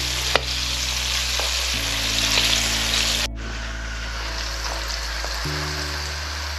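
Squid pieces fry in hot oil in a pan for a Thai catch-and-cook dish, giving a steady, loud broadband sizzle that continues alone throughout, with a brief bump partway through.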